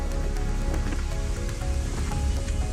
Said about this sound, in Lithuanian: smarkiai lijo ir krito kruša